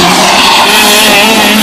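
A Tag Senior/Expert class racing kart at a Badger race event skids into turn one, producing a loud, close, continuous squealing roar of engine and tires over a brief moment.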